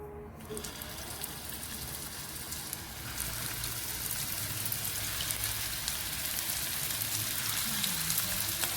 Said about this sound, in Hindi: तो इसमें थोड़ा सा तेल ऐड करते हैं और इसमें भी कबाब शामिल करते हैं।